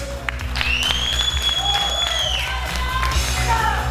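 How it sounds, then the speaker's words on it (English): Audience at a powerlifting competition applauding and cheering a new squat world record, steady crowd clapping with whoops under a held tone and some talk. "give a big hand of applause for the new world record"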